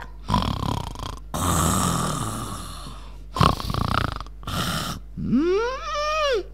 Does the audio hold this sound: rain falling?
no